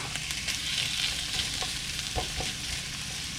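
Ham fries in a single pan, a steady close sizzle with brief stirring scrapes and taps, no talking.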